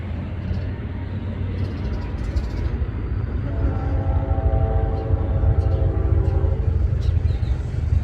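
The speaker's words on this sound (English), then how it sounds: "as you just heard, that was it honking at Reichs Ford" CSX 899 locomotive leading a train on the Old Main Line at Reichs Ford, its unique horn sounding as a sustained multi-tone blast over heavy rumbling train noise, growing louder toward the end.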